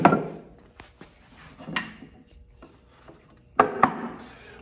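Breaking the edge of a wooden garden bench part: a few close, sharp rasping scrapes on wood separated by quieter pauses, with a louder double stroke near the end and no talking.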